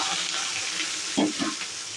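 Onions and green chillies sizzle in hot tempering oil for a leafy amaranth dish, a dense continuous frying hiss with brief stirring scrapes near the middle.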